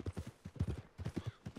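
A big black horse trots in Red Dead Redemption 2, its hooves clip-clopping in a quick, steady rhythm of close, moderately loud beats with no voices over them.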